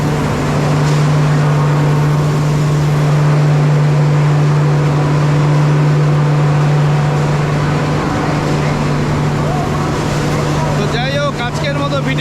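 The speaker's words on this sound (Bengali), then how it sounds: "যা ইঞ্জিনের আওয়াজ" Steady low engine drone of the Kandari Express travelling by night from Digha to Howrah, a constant loud hum with a rumbling bed, with someone talking over it throughout.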